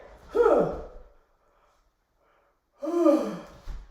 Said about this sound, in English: Getting those big yawns out.